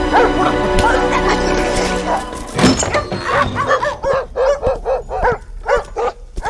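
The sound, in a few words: dogs barking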